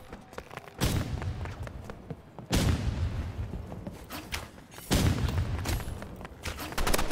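Gunfire in the video game Roblox Rivals: three heavy booming bursts a couple of seconds apart, each followed by a dense rattle of rapid shots and crackling impacts at moderate level.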